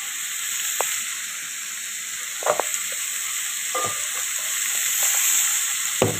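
Spice paste fries in a pan with a continuous bright sizzle, broken by occasional stirring scrapes and small clinks, close and steady throughout.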